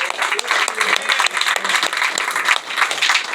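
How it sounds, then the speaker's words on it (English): An audience at a guitar clinic in a music store applauds with dense, continuous clapping close by, with cheering voices mixed in throughout. "Give them a round of applause."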